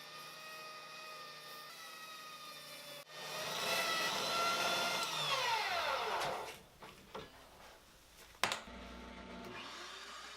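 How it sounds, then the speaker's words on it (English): A drill clamped to a workbench spins a sanding disc wedged on a dowel in its chuck, starting with a whir that swells to a loud rasping grind as wooden pieces are pressed against it, then winding down amid clunks. "We got the idea to mount the drill to the workbench to help mechanize the sanding process."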